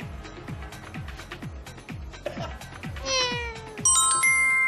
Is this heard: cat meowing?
yes